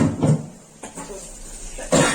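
Coughing in a kitchen while spices fry for a ridged gourd and potato curry, a few short bursts spread across the moment, close and fairly loud.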